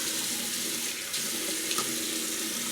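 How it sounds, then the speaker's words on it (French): Water runs steadily from a tap while waiting for it to turn hot, a close, continuous hiss and splash with no voices over it. "vous entendez l'eau, mais bon, c'est du direct. J'attends l'eau chaude."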